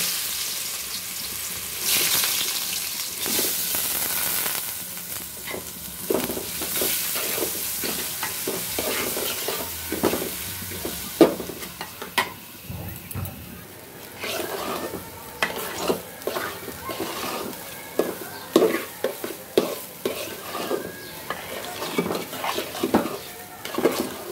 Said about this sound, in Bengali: কড়াইতে তেল দেওয়া হয়ে গেছে, আমি চাল ধুয়ে দিলাম, এখন ভেজে নিব।